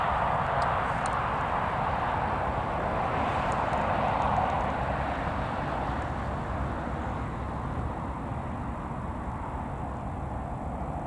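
An aircraft departing Newcastle Airport, a broad steady engine roar heard from a distance that holds fairly level and slowly eases off, with no voices.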